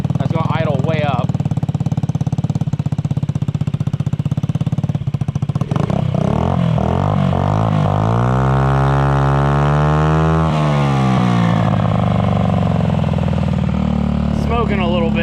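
A Honda Metro scooter engine runs at a high, loud idle close by, its pitch rising and falling as the revs swing up midway, with someone talking over it throughout.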